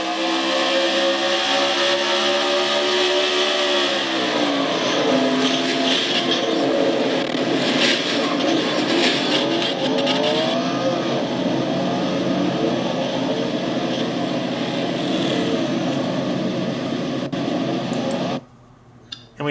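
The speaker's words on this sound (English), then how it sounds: "we heard Keith's motor skip" An onboard race car engine drones loud and close, holding a high steady note with shifting pitch sweeps and brief stumbles in the middle. The engine cuts off abruptly near the end, with no voices over it.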